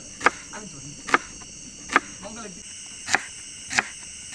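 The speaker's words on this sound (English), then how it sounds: "it was time to chop some fresh onions and tomatoes for the chicken curry" Fresh onions and tomatoes chopped on a board at a riverside camp, five or six crisp knife strikes at a slow, uneven pace, with constant insect and cricket chirping behind.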